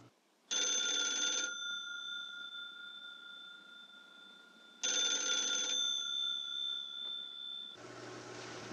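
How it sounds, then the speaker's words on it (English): A telephone bell rings in two loud, close bursts of about a second each, with a long tonal tail after each burst and a short gap between them; no one speaks. "Answer your phone, Blondie."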